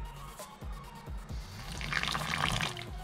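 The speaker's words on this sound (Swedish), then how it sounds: "Ska jag hälla i lite vatten bara för att jag vet att annars kommer det inte gå att blanda" Water is poured into a mixing bowl in a home kitchen. It gives a soft trickle and splash over a few dull low knocks, moderately faint and close.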